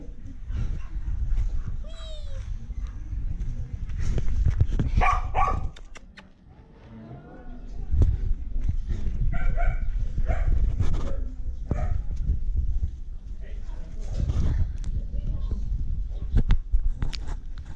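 Dogs and puppies at a shelter in Huanchaco, Peru bark and yip repeatedly with some whimpers, near and loud against a busy background, mixed with people talking.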